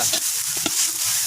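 A spoon stirs turmeric powder into banana flower frying in a pan for an egg stir-fry, a close scraping stir over a steady hiss of sizzling oil.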